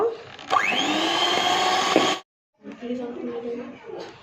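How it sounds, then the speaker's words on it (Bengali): An electric hand beater whirs at low speed, mixing chocolate ganache into cream for a chocolate cake, a steady motor drone that stops abruptly partway, followed by someone talking. "দিয়ে এটাকে আমি একটু লো স্পিডে বিট করে নেব"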